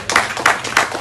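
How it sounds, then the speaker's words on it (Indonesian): A few sharp claps from an audience at a political party officials' inauguration event, about three quick bursts within a second. "Tepuk tangan buat Bapak Ibu semuanya."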